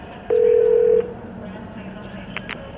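A telephone in The Darkness dials with a single steady electronic tone lasting under a second, followed by a couple of faint short blips over a low background hum.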